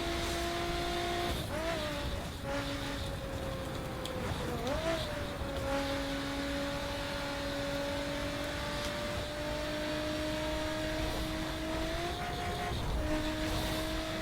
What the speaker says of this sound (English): Absolutely love the acceleration on this car.